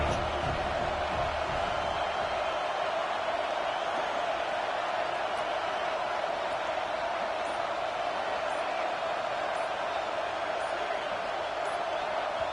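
Stadium crowd at an FSU versus Notre Dame college football game, heard as a dense, steady roar that stays loud and unbroken throughout with no distinct voices standing out.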